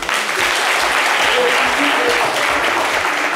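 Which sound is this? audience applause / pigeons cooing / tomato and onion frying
audience applause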